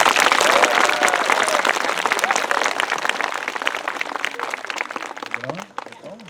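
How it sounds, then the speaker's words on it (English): A crowd claps loudly and steadily at a ribbon cutting for a tower at an elementary school. Voices mix into the applause, which tapers off slightly toward the end. "Let's give him a big round of applause"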